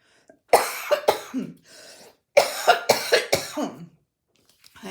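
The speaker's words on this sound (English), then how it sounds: "I just keep coughing and coughing." Coughing from one person: two clusters of harsh, close, repeated coughs separated by a brief pause, loud and dry, with a short breathy sound in between.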